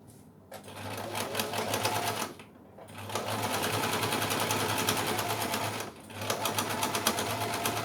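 A sewing machine stitches the lining of a padded cosmetic bag, running in three loud, steady bursts separated by two brief pauses, with no voices.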